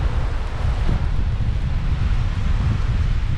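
Strong, steady wind roars and buffets continuously at close range, with heavy low rumbling gusts that suggest wind striking a microphone outdoors.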